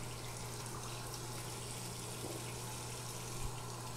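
Water runs steadily from a tap to rinse a glass pipe, a continuous soft splashing stream at low level with no talking.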